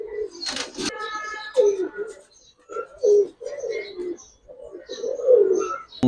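Giribaz pigeons cooing in a loft, a series of soft, throaty, repeated coos at close range with short pauses between calls, plus a couple of sharp clicks near the start and the end.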